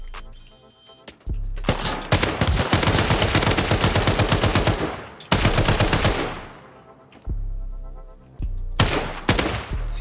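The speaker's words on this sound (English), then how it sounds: "Who's shooting?" Video game gunfire rings out in several loud bursts of rapid automatic shots, separated by brief gaps, with no talking.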